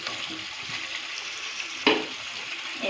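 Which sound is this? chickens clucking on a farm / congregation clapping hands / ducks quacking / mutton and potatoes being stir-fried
mutton and potatoes being stir-fried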